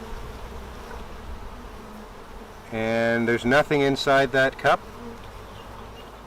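Honeybees drone in an open, crowded hive during a brood-frame inspection, a steady low hum running throughout while a person speaks briefly over it.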